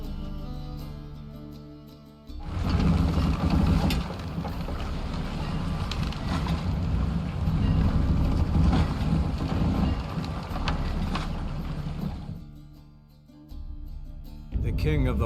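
A wooden longship sets sail at sea in The Witcher 3, with a deep rushing wash of water and wind swelling in and holding steady for several seconds before it fades away.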